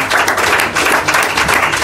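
A church congregation at an evening prayer gathering claps and cheers together, a steady, loud wash of applause filling the space without pause.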